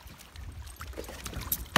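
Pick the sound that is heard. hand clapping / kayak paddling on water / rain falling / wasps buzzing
kayak paddling on water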